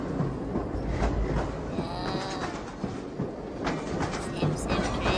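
A battery-powered RC toy bullet train with a low charge circles on the floor, giving off a steady rattling whir with light clickety-clack, close by. A voice can be heard faintly in the background.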